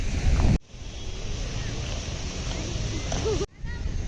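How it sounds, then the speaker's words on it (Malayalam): Strong wind roars steadily across a microphone at a beach, with surf washing underneath; the gusts run loud and continuous, dropping briefly near the start and again toward the end. "നല്ല കാറ്റുണ്ട് കേട്ടോ അത് എന്തൊരു കാറ്റ്"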